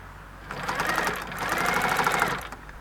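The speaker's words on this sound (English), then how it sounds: "we're going to over sew there." A sewing machine stitches a seam on a men's shirt being made into a camisole top, running in one steady buzzing burst of about two seconds with no talking.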